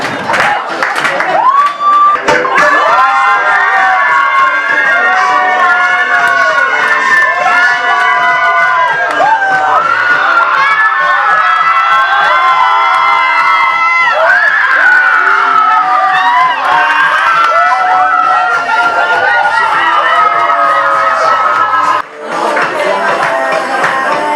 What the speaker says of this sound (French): On applaudit la candidate.